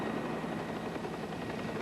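Medical helicopter arriving at a rescue scene for an elderly woman, its rotor and engine roar loud, close and steady throughout with no voices over it.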